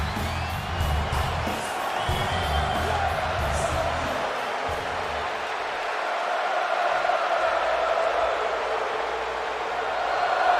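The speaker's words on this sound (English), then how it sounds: "The crowd is raucous." A raucous arena crowd at a Royal Rumble event in the WWE 2K26 video game roars and murmurs as a constant, dense wash of cheering, with a few whoops standing out early on.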